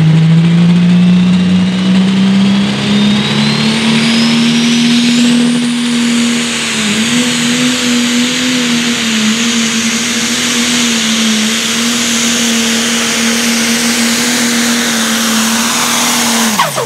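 A Pro Stock pulling tractor roars at full throttle during a tractor pull at Trecasali, a loud sustained engine drone holding a steady pitch for the whole run, with a rising high whine and a sudden cutoff at the end.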